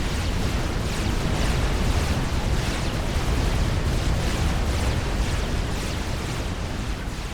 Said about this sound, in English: Plasma cannons being put up to defend Jidoka. Jidoka is shooting back.